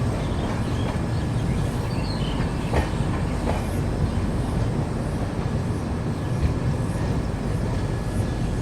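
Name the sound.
train departing station after banker locomotive attached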